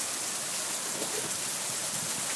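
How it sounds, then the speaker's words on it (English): Steady, even rain after a summer storm in Brisbane, hissing across a wide band, a dense wash of drops with no voices and no thunder, constant in level throughout. "Alright, storm over, now it's just rain."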